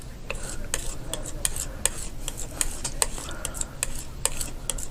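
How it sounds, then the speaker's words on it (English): Paint being stirred in a container to mix a deep green, giving a run of light, irregular tapping and scraping clicks at a close, steady pace with no talking. "Keep stirring it up."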